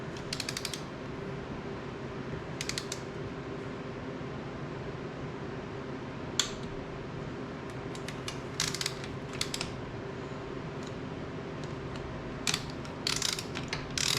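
Torque wrench clicking and ratcheting as it tightens cam cap bolts on a Yamaha YFZ 250F dual overhead cam engine; scattered short ratchet clicks over a steady background hum, fairly close.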